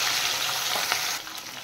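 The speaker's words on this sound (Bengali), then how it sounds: "এবার আমি মাছ ভেজে নেব।" Pieces of catla fish, coated in turmeric and salt, fry in hot oil with a loud, steady, close sizzle that drops slightly near the end.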